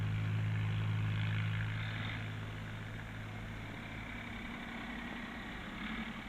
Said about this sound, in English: Here we are, the engine of the Dexter 2000.